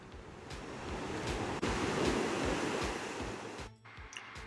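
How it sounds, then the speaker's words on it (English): Large, powerful ocean waves surge and break close to shore at a high tide off Western Australia's Esperance coast, a steady loud rushing roar with wind buffeting the microphone and a brief lull near the end. "The waves are humongous."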